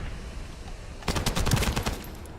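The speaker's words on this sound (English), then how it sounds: "They're using the beam gun too" Beam gun firing in the video game The First Descendant, a rapid burst of crackling shots starting partway through and continuing over steady background game noise, fairly close and moderately loud.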